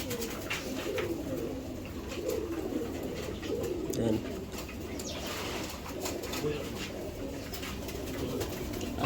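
Racing pigeons coo softly and repeatedly in a loft, close by, with a steady background hum and people talking over the birds.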